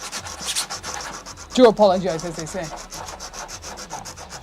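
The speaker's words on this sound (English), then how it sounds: "We're currently doing a bit of sanding." Repeated back-and-forth rubbing of sandpaper on a 3D printed part for a radio-controlled eagle model airplane, steady close strokes through the whole stretch, with a brief vocal sound partway and someone speaking softly under it.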